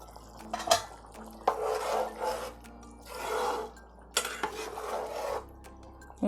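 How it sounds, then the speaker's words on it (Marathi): A metal lid lifted off a pot of simmering Koli-style catfish curry, with a few clanks and scrapes of cookware and bursts of bubbling and sizzling in between, close and moderately quiet, no one speaking. "आता झाकण काढते"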